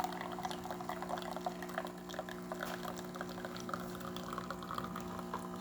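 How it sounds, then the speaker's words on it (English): A Jura coffee machine pumping coffee out through its cappuccino spout, a faint steady pouring and trickling of liquid over a low mechanical hum, continuous throughout. "you're gonna see a bunch of coffee, as you see right here, coming out through the cappuccino spout"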